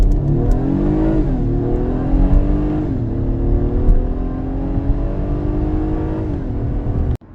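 A 2022 Acura MDX's 3.5 liter Honda V6 revs and accelerates loudly and close, the engine note climbing through several gear changes with no talk over it.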